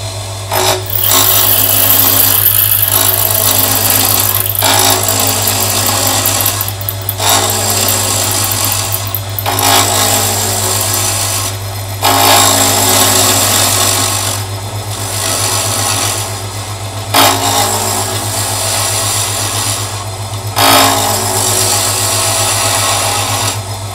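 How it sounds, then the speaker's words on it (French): Wood lathe spinning at top speed as a pen blank is rough-turned, a loud steady motor hum with a constant low drone and harsh scraping bursts as the tool bites, alone without talk. "Donc on est à la vitesse maximum du tour."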